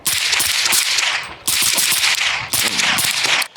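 Rifle fire from a PSA Mixtape or a Honey Badger carbine at an outdoor range, a series of sharp cracks in quick strings with brief pauses between them, loud and close with no talking.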